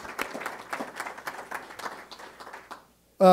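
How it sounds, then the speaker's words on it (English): Audience applause at the opening of a university graduate studies technology center, a dense patter of many hands clapping for under three seconds before it stops abruptly. "So let's give them some applause."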